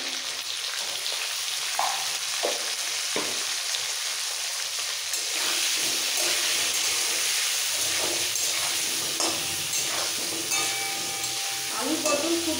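Potato and pointed gourd pieces fry lightly in oil, a continuous close sizzle with occasional stirring clinks and scrapes, no voices.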